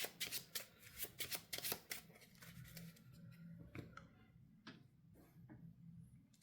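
Rapid riffle-shuffling of a deck of playing cards during an Arkham Horror card game, a burst of crisp flutters followed by softer, sparser card riffles and taps, quiet and close.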